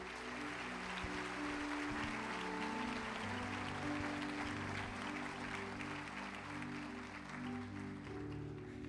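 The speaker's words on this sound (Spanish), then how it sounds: "Démosle un aplauso fuerte a estas personas." Applause from a church congregation, heard fairly faintly and distant, blended with a sustained organ or keyboard chord that continues underneath.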